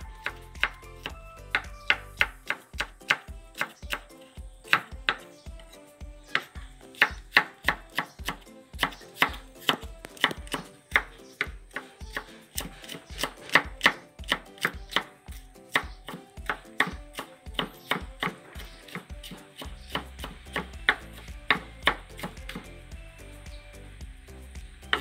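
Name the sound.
chopping food with a knife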